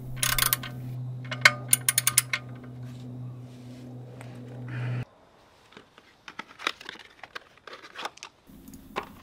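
A ratchet wrench tightens the oil drain plug on a Ford Focus during an oil change, with quick bursts of clicking close by, a steady mechanical hum, then scattered metallic taps and clicks after it stops.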